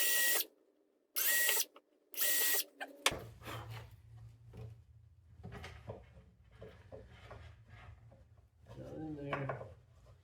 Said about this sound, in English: I'm going to drill three little pilot holes here.